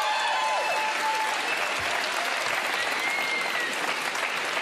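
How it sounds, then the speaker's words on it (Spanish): Applause from a stand-up comedy audience, a dense, steady wash of many hands clapping close and loud throughout, without a pause. "merece un aplauso, damas y caballeros"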